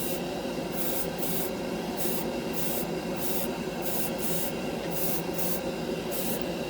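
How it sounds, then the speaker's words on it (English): Airbrush sprays Mr. Color lacquer paint in a continuous close hiss, pulsing in short regular bursts as quick coats go onto a scale model part. "It really atomizes well with the airbrush."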